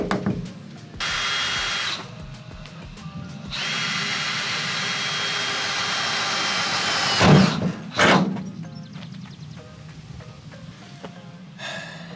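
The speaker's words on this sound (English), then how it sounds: "A lot of people like poke holes through here with a drill" A power drill whirs in several long runs, starting and stopping, boring holes in a VW Crafter van's metal panel for window fitting, with clunks and handling knocks on metal between bursts.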